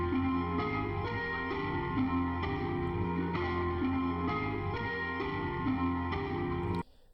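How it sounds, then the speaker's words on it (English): A dark music sample run through Guitar Rig with added vinyl noise, a dense, steady looping texture with a muffled low end and faint crackle, playing alone at moderate level before stopping abruptly near the end. "So it's still the same sample, but now I added guitar rig and that vinyl sound"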